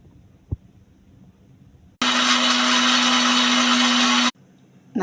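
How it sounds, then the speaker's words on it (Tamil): A blender grinds cooked, cooled black grapes for juice, starting abruptly with a loud steady whine that runs about two seconds and then cuts off, preceded by a brief knock and quiet room tone. "இப்போ ஸ்டவ் ஆஃப் பண்ணிவிட்டு நல்லா ஆறினோன்னே நம்ம பிளெண்டரில் அரைக்கலாம்."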